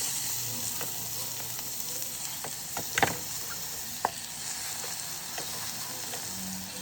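Amaranth leaves and ginger paste frying in a pan give a steady, close sizzle with a few sharp clinks of stirring scattered through.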